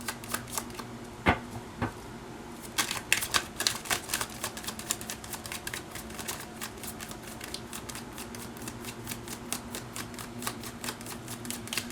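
Tarot cards being shuffled close by: a few soft taps, then a long run of rapid, light riffling flicks at a steady pace over a faint background hum, with no voices.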